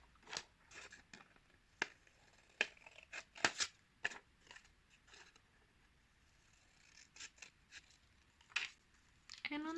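Scissors snipping paper to cut pieces for a paper rose, close sharp snips in irregular clusters with quiet pauses between cuts and low handling noise.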